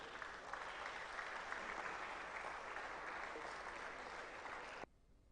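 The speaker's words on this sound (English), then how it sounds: "a round of applause for Tamale" An audience applauds Tamale's team at a national public speaking competition grand finale, with steady, full clapping that holds for several seconds and then cuts off sharply into near silence.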